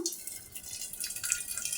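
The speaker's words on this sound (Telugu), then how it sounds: "ఈ పప్పులో నీళ్ళు కొద్దిగా వంచేద్దాము" Water trickling and dripping as it is poured off a pot of cooked lentils, a light splashing stream that continues steadily.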